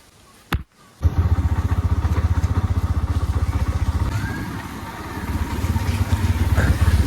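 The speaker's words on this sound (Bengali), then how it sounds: "এখন আমি বেরিয়ে যাচ্ছে বাইক নিয়ে ও বাড়ি যাওয়ার জন্য।" A motorbike sets off on a wet road after light rain: a brief thump, then a close, steady rhythmic engine putter that carries on for several seconds, dipping slightly before rising again.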